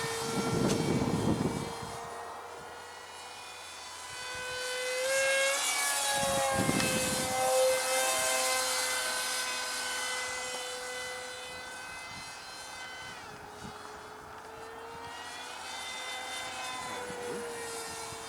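An R/C Depron foam scale model of an F-100 Super Sabre, electric propjet powered, flies past with a steady droning whine that swells and fades as it passes overhead, rising and falling in loudness across the flight.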